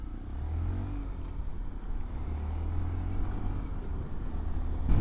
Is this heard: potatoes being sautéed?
no